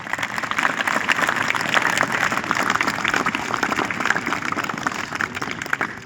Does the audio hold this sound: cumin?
no